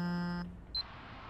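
Mobile phone in the video game Perception, heard as a steady electronic tone that cuts off, then a brief high beep, close and clean with no talking.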